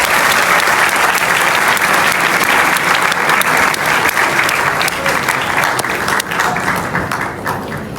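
Loud, sustained applause from a large audience welcomes writer Bee Gul onstage at a gathering with drama artists, a thick, even roar of clapping that carries on for the whole stretch.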